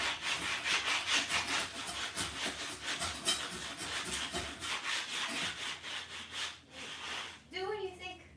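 Wood is shaved down by hand for a homemade cat tree, giving close, rhythmic rasping strokes that repeat steadily, ending with a brief higher scraping sound.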